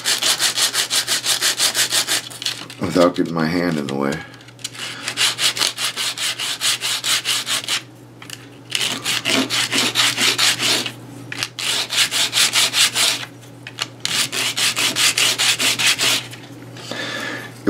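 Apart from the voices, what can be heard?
hand sanding 3D printed crate top with 150 grit sandpaper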